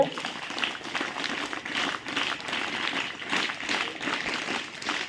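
An audience at a self-development workshop claps steadily and densely, a continuous wash of applause with a few voices mixed in, recorded at a moderate distance.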